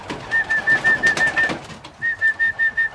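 A pigeon cock gives repeated cooing notes in two bursts, a rhythmic series of short, soft, close calls separated by a brief pause, with faint background rustle.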